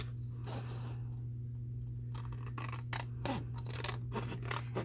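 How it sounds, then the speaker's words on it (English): Scissors snip through cardstock while cutting out scripture cards, a few crisp separate cuts standing alone over a steady low background hum. "I just cut them out."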